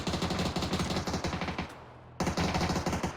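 Automatic gunfire in PlayerUnknown's Battlegrounds, rapid loud bursts of shots in a steady rhythm that stop briefly, then resume at full strength, with no talking.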